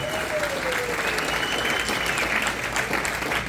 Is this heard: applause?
yes